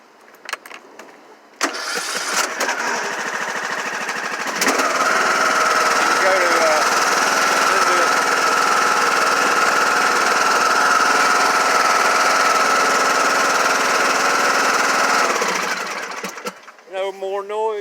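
Repaired Cub Cadet 1440 lawn tractor engine cranks over, then settles into a steady, loud, smooth idle held for over ten seconds before cutting off, with no rattle in it.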